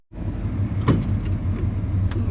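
A vehicle fitted with a homemade transmission shifter starts to drive off, its engine humming steadily at close range, with a brief clunk near the start and faint rattles over the low drone.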